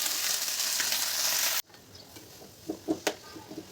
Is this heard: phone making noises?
no